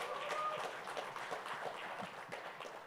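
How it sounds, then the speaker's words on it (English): A conference audience claps together in a dense, steady round of applause that gradually tapers off, heard from within the hall. "Maybe a round of applause."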